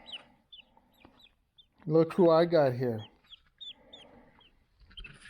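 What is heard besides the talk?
baby chicks peeping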